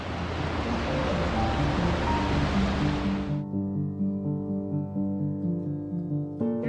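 Hot spring water at Yellowstone runs down steaming creeks into a river, a loud steady rush for about three seconds that then cuts off abruptly, leaving soft tonal music.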